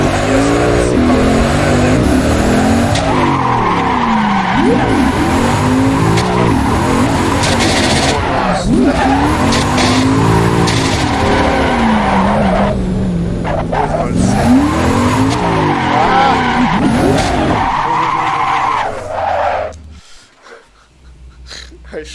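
Mazda RX7 FD3s rotary engine revving hard in Assetto Corsa, loud and sustained, with repeated tire squeals as the car skids and drifts, then the sound cuts out abruptly near the end.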